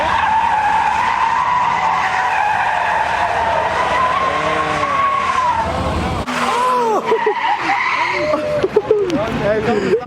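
A Ford Mustang skids at a wild car meet, its tires squealing in long wavering screeches over a revving engine, loud and near, with excited shouting voices mixed in.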